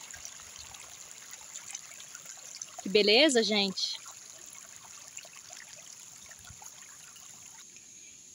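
Water running from a pipe spout on a rural farm in Goiás, Brazil, a soft steady trickle throughout, with someone speaking briefly over it partway through.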